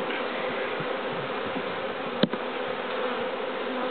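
Honey bees drone in a dense, continuous buzz around an open backyard beehive, close and steady throughout, with a single brief knock partway through.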